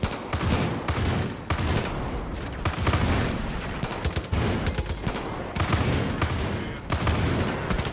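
Gunfire in Far Cry 5, a loud, dense barrage of repeated shots and blasts going on without a break, with sharp bursts layered over a heavy rumbling background.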